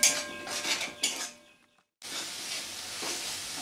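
Powdered spices and salt are stirred into a potato and soybean curry in a pan, with metal spoon scrapes and clatter, a brief pause, then a soft continuous sizzle.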